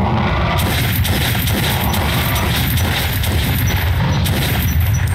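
Gunfire in the video game Metro: Last Light comes as a loud, dense run of booming shots and crashes, packed together without gaps.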